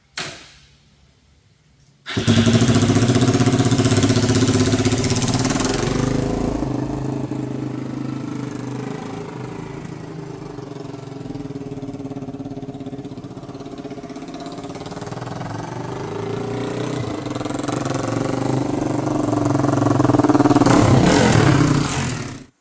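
After a couple of seconds of quiet, a Suzuki DR-Z400 motorcycle engine starts and runs steadily nearby, a rough low rumble that swells slightly toward the end.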